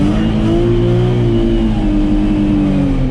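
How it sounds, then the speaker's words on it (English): A drift car's engine roars steadily under throttle as it oversteers around a cone, revving high and holding its pitch with slight rises and falls, close and loud with no talking. "Use the throttle to get the car rotated around this cone."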